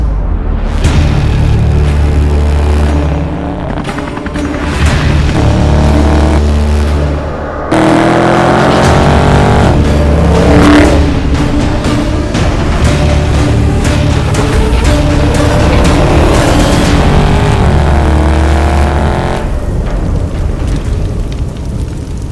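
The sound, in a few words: Dodge Charger Widebody 392 engine revving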